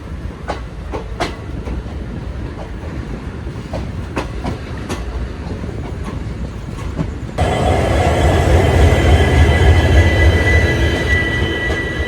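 The Palaruvi Express rolls into Tirunelveli Junction, with rhythmic clickety-clack wheel clicks heard from on board, then a sudden louder, denser rumbling roar of the carriages in the second half.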